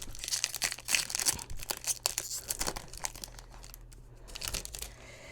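A Zendikar Rising card booster pack being torn open, with quick bursts of crinkling and ripping foil wrapper, close up and fairly quiet, with no talking.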